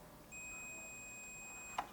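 A multimeter set to its continuity buzzer gives one steady, high electronic beep lasting over a second while probing a speaker from a 32-inch LED LCD TV, ending in a brief click. No voices are heard.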